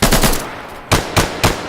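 Automatic gunfire in the video game Insurgency, loud and close: a sustained rattling burst followed by a brief pause and three more sharp bursts in quick succession.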